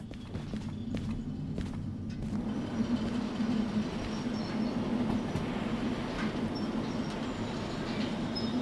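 Long freight train in the Derail Valley simulation game rolling steadily along the rails, a continuous loud low rumble with faint wheel clatter and occasional high squeaks throughout.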